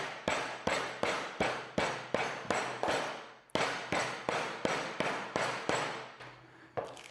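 Buffalo meat in a Ziploc bag is pounded flat for carpaccio: a steady run of about twenty sharp, loud thumps at a fairly even pace, close up, with one brief pause midway.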